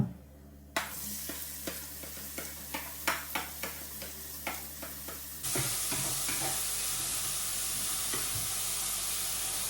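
Onion and garlic hit a hot pan with cumin and sizzle for fried rice, with several sharp stirring scrapes early on before a steady loud frying hiss takes over.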